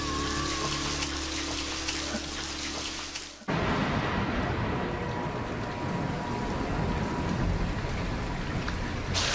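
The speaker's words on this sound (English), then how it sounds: "This rain is really starting to come down." Heavy rain pours down steadily outside a house under renovation, first as a dense hiss over a low background hum, then after a sudden shift as a fuller, louder roar of rain spattering nearby surfaces.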